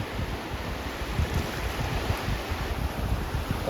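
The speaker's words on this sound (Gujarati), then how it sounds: "જો મોજા કેટલા છે પણ બીક લાગશે તમને" Rough sea waves surge and break near a shrimp-netting spot on the shore, a loud continuous rumbling wash mixed with gusty wind buffeting the microphone.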